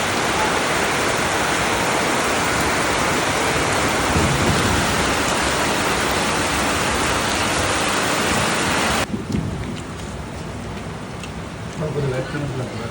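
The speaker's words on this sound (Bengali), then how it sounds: "বাইরে এত বৃষ্টি পড়ছে" Heavy rain pouring down outside, a dense, loud, continuous wash of noise that drops somewhat in level near the end while a voice talks faintly beneath it.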